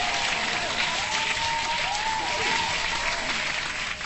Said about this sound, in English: So hand clap to you guys.